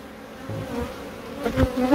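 Honeybees buzz steadily close by at a hive, a continuous droning hum that swells louder toward the end.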